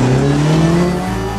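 Rachar 4CV prototype race car from 1958 with an R8 Gordini-based 1450 cc racing engine at a hill climb, its engine droning loud and close in a steady, harmonic-rich pitch that dips slightly near the end.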